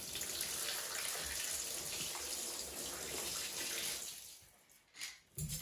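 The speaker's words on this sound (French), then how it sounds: "On va lui mettre un peu d'eau." Water poured into a basin for a monitor lizard, a steady close splashing gush that runs for about four seconds, then tapers off and stops, leaving a few small trickles and drips.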